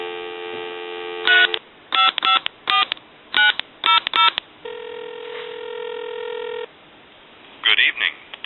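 A TA 954 military field telephone gives a steady dial tone, then a string of short dialing tone bursts in irregular rhythm, another sustained tone, and more brief tones over a low hum, clear and close.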